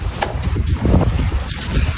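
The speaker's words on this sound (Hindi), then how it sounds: "वो ठंडी ठंडी हवा चल रही है" Cold wind gusts outdoors during heavy rain, a loud, rumbling rush that buffets the microphone in uneven surges, with no one speaking.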